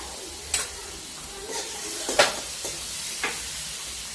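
Spiced pea paste with turmeric sautéing in a pan, a steady soft sizzle with a few sharp scrapes and clacks of a spoon stirring at irregular intervals.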